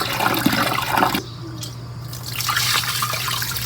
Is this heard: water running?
yes